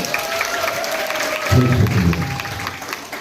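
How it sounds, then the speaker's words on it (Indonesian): A crowd claps in a roomy hall during a school orientation event, the applause swelling louder partway through and then thinning, with faint murmuring underneath. "Mari kita sambut dengan tepuk tangan"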